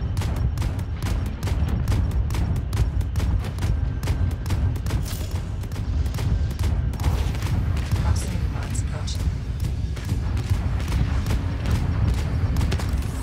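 Ship cannons fire in the space game Void Crew as a rapid, continuous barrage of booming shots with a heavy low rumble, loud and dense throughout.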